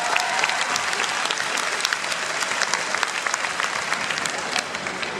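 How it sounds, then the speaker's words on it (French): A convention audience at a video game show applauds, a continuous crowd clapping with sharp individual claps that holds steady and eases slightly toward the end. "Bravo, applaudis."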